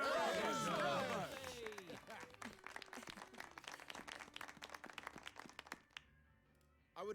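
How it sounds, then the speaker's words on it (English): Crowd applause and clapping in The Good Life video game, a loud burst at first that settles into steady scattered claps, heard after a speech at a town banquet and feast. "a round of applause for this town's new hero and the sponsor of this grand feast"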